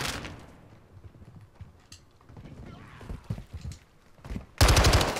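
SMG gunfire in Call of Duty: Modern Warfare crackles in short bursts with footsteps, ending in a loud sustained burst of rapid shots, while a voice talks briefly.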